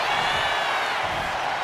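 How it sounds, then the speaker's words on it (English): At a televised wrestling event, a large arena crowd roars and cheers in a continuous dense wash of noise, loud and unbroken for a brief moment. "And Rhea is revving this crowd up."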